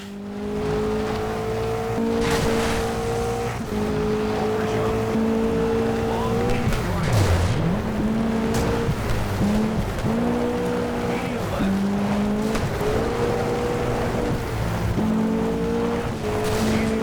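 Toyota Celica rally car driving in the game Sega Rally Revo, a continuous engine whine rising and dropping through repeated gear shifts with tire noise, while people talk over it.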